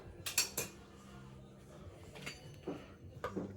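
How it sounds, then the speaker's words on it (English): A metal tong scrapes and clinks against a greased pan as a pizza slides out, giving a few sharp metallic taps followed by a soft dragging scrape, close and fairly quiet. "Use a pair of tongs, slide it out."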